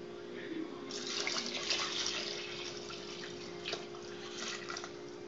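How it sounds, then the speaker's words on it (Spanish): Water poured from a tap or jug into a cooking pot for boiling potatoes, a steady hissing, splashing stream running for several seconds with brief surges, close by and alone. "ahora vamos a echarle el agua a la cazuela"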